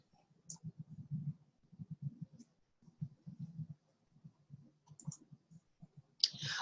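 Computer mouse clicks, light and close, come in quick irregular bursts of soft taps with short pauses between them and no one talking.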